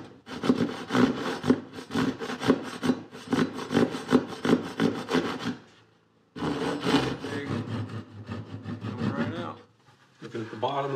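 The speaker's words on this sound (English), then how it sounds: "we're gonna take a chamfer bit and we're gonna cut a little notch in the side panel right here on each side" A router fitted with a chamfer bit notches a plywood side panel of a flip-top desk, giving two long, loud, continuous cutting passes with a short pause between them, close and steady, with no talk.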